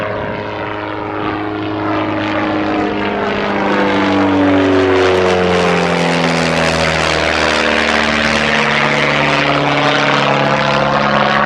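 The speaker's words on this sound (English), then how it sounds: "Yeah, we get a lot of plane traffic in here." A propeller airplane passes at a regional airport in Spring Green, Wisconsin, its droning engine swelling steadily louder and nearer with sweeping pitch shifts, heard alone without talk.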